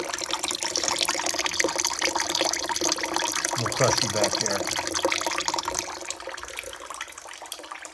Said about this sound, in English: So I've shut the power off. And this water will trickle out.